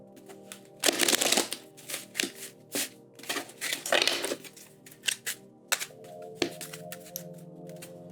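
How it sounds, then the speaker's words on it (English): Tarot cards are shuffled in several quick riffling bursts, with crisp slaps and pauses between them, close up and with no talking. "We're going to do 3 shuffles and get into the energies for the week."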